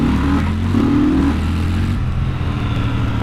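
A Triumph Scrambler 1200XE motorcycle accelerates hard from a stop, its engine a loud, continuous, close roar whose pitch climbs and then settles.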